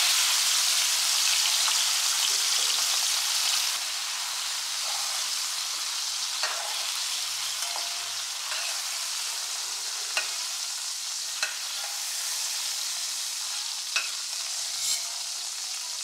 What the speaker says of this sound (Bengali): লবণ হলুদ মাখানো চিংড়ি মাছগুলোকে এপিট ওপিট করে হালকা ভেজে নেবো